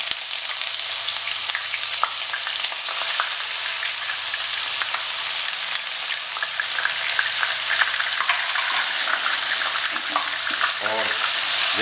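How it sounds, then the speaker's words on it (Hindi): Chopped onion frying in a hot pan for a fish ginger dish, a dense continuous sizzle with faint stirring clinks, close and steady throughout with no talking. "अब ये जो हमारा प्याज है, इस प्याज को इसमें डाल देते हैं।"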